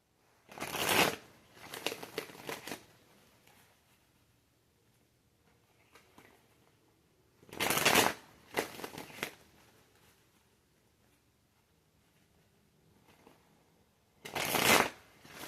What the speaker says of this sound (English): Enough shuffling.